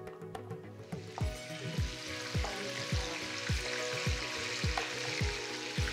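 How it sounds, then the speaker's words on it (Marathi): Pieces of fish frying in about three spoonfuls of oil in a frying pan, a steady close sizzle with a run of regular, rhythmic thumps or taps as the pieces are placed and handled, no voices. "तर आता आपण हे फ्राय करून घेऊया फ्राय पॅनमध्ये।"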